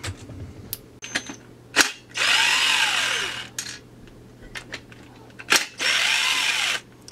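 Cordless drill or impact driver backing out the oiler plug screws on a Huztl Farmertech 372xp clone chainsaw kit, two sustained whirring bursts of about a second and a half each with a pitch sweep, between sharp clicks and handling knocks, close and loud.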